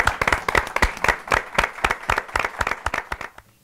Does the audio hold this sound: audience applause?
yes